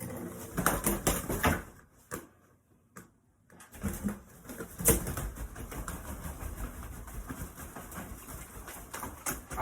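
A gyrfalcon and saker falcon hybrid flaps its wings indoors in a house, making close bursts of flutters that stop briefly and then resume in a rapid, uneven patter.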